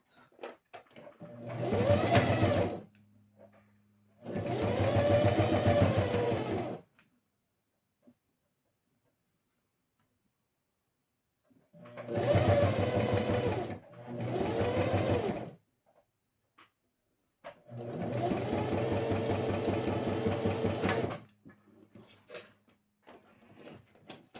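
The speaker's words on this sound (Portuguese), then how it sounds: "Então, vamos lá, costura aqui, essa costurinha aqui, certo?" Sewing machine stitching bias binding on a handmade pencil case, running in four separate bursts of a few seconds each with quiet pauses between, close and steady, with no talking.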